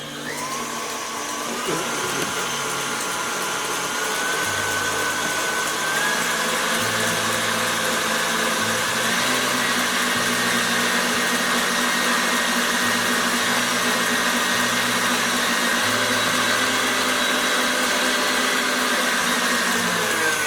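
An electric mixer beats a whole egg into butter for lemon cookie dough, a steady loud motor whir running continuously with a slight pitch shift as the batter thickens.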